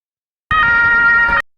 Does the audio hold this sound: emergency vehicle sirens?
yes